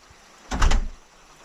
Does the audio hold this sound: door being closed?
yes